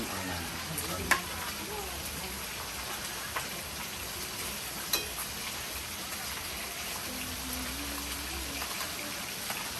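Fish frying in a pan, a steady sizzle and crackle of hot oil running through the whole stretch with occasional sharp pops, close and continuous, with a low hum and faint background noise underneath.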